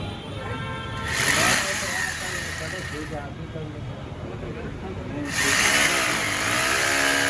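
A power drill runs during a split air conditioner installation, with a loud, sustained whine that surges in two bursts over a constant motor drone, and voices talk underneath.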